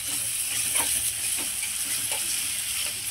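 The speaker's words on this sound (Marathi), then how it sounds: "पेस्ट पण छान कांद्यावर परतून घेऊया" Masala paste sautéing with softened onion in a pan, a steady loud sizzle and hiss with faint stirring scrapes, close and continuous without any talk.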